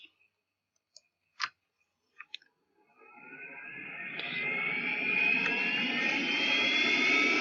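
Helicopter starting up in a vehicle simulator video game: a few isolated clicks, then a turbine whine that rises steadily in pitch and loudness into a sustained roar.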